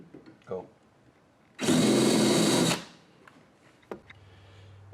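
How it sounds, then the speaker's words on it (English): A loud power drill with a 1/8 inch bit whirs steadily for about a second, close up, drilling a pilot hole during a roof top tent rack install on a 2023 Toyota Tacoma, between quiet handling noises and brief clicks. "take a 1/8 inch drill bit to drill the pilot hole"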